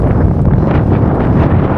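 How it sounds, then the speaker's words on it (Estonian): Strong wind buffets the camera microphone outdoors at a campsite in Lapland, a steady loud roar with gusting rumble that fills the whole clip and drowns out everything else. "Rets tuul, nii et vabandan, kui kaamerasse jääb"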